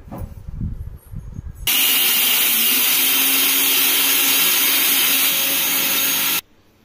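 A mixer grinder whirs in a mixie jar while grinding ingredients coarsely for a coconut and dried red chilli spice powder, starting abruptly as a loud, steady whine that runs for about five seconds and then cuts off, with no talking.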